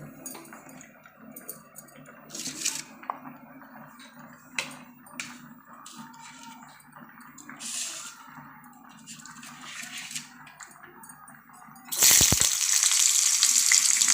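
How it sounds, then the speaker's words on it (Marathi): Garlic, a small piece of ginger, a halved tomato and coriander roast in a pan for a stuffed egg curry. Scattered clinks and scraping come first, then a loud, steady sizzle bursts in for the last couple of seconds, with no talking. "लसूण घेतलेलं आहे अद्रक घेतलेली आहे आल्याचा बारीक तुकडा घेतलेला आहे बघा आणि टोमॅटो घेतलेला आहे अर्धा चिरून आणि कोथिंबीर हे आता आपण पूर्ण भाजून घेऊया"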